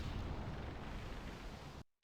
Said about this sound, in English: That artillery did 3 damage.